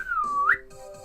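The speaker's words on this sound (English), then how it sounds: "No bother, I will whistle for him." A single rising-and-falling whistle called out to summon a horse in the video game Red Dead Redemption, clear and close, followed by quiet game ambience.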